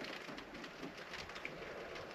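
Soft, steady autumn rainfall in Kashubia, Poland, pattering nearby, fairly quiet, with a faint distant rumble underneath.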